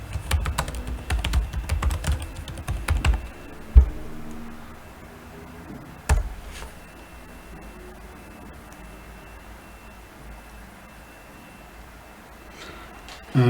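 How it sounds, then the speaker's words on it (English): Typing a command on a computer keyboard, with a dense burst of quick keystrokes at the start, then a couple of isolated taps. Long stretches of quiet room tone follow. "let's go to our terminal and type npx truffle compile"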